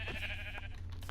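A sheep bleats in Minecraft, a short nasal cry with a steady low hum underneath.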